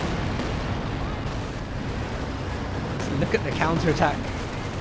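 Stuka dive bombers strike in a WWII strategy video game, with a steady low rumble of artillery-like blasts that build into sharper bursts and swooping tones near the end, under continuous commentator speech.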